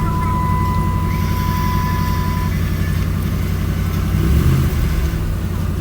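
A motor vehicle engine runs loud and close at a steady idle with a continuous low rumble, and a thin tone rings above it for the first couple of seconds.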